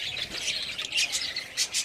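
Java sparrows squawk from clay breeding nest pots in winter, giving a run of sharp, shrill calls close by that come in quick uneven bursts, the last few louder.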